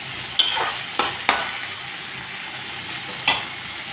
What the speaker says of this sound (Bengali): সবজির সাথে আমি চিংড়ি মাছগুলোকে ভাজা করে নিলাম।